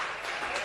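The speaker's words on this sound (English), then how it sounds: "A round of applause for Fee" Audience applause in a TV talent-show studio, a steady dense wash of clapping filling the whole brief moment at even loudness.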